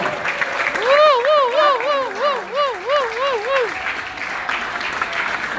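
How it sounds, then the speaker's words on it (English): An audience applauds at an evening event honoring a senior vice president, with steady clapping under a loud wavering whoop that rises and falls in repeated swoops. "Miss Sanaz Woman, our Senior Vice President, a huge round of applause"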